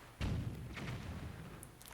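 A cannon shot in Zelda: The Wind Waker HD, one dull muffled boom with a low rumbling tail, fairly soft and alone.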